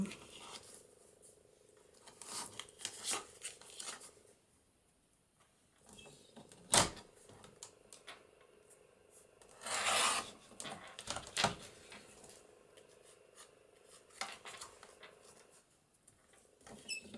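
Scissors snip through patterned craft paper while trimming a shaker tag, a few soft crisp cuts scattered among rustling and handling sounds at close range, with no talking.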